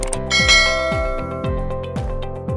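Bright bell chime used as a notification cue, struck repeatedly in a quick series of ringing dings with sustained metallic overtones, loud and clear with no voices.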